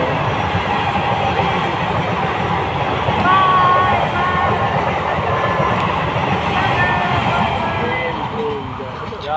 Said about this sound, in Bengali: আর এই যে ট্রেন যাচ্ছে দেখো